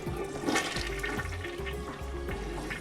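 A close toilet flush, a loud rushing gurgle of water draining steadily through the bowl for a few seconds.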